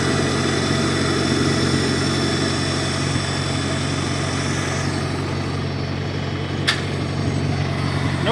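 A 1953 Farmall Cub tractor engine idles with a steady, close, droning hum and a low, even chug, alone with no voices.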